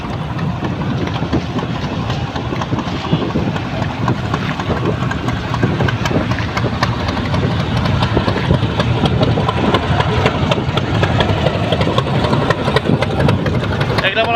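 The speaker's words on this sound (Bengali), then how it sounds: "এখান দিয়ে আস্তে আস্তে নৌকাগুলো তাদের গন্তব্যের দিকে চলে যায়" Motorboats chug along the Buriganga river near Jinjira ghat, a constant loud engine drone that fills the whole stretch, with voices mixed in.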